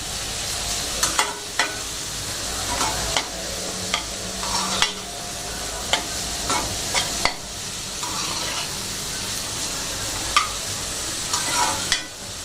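Vegetable fried rice with capsicum and spring onion stir-fried in a hot pan, a continuous sizzle punctuated by regular sharp scrapes and taps of the spatula, close and steady without talk.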